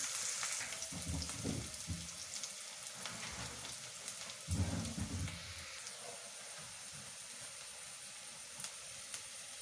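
Green chillies and onion fry in hot oil, producing a constant, faint hiss with a couple of short bursts of stirring scrapes, close by and with no voices.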